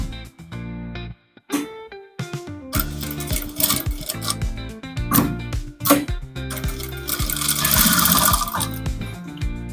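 A sewing machine stitches a trouser front pocket with its lining, running in short close bursts of rapid mechanical clatter separated by brief pauses and clicks, ending in a longer steady run.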